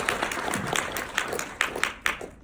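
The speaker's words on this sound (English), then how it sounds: "Let's give him a round of applause" Audience applause in a seminar room at the close of a talk on personal brand building, a steady patter of many hands with a few sharper claps standing out, moderately distant and fading toward the end.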